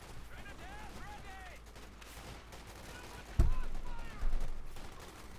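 Bursts of .50 caliber machine gun fire in the real-time strategy game Company of Heroes 2, sharp rattling volleys amid battle noise beneath continuous commentator speech.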